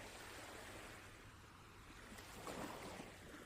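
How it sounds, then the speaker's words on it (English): Steady ocean surf washing in the background beside a quiet seaside lighthouse, a soft continuous rush with a gentle swell near the end, faint and alone. "Outside, the ocean continues its steady rhythm."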